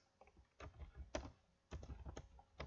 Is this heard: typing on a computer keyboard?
yes